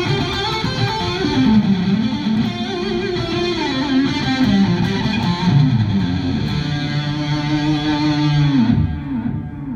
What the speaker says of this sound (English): A boogie. Mesa boogie sound.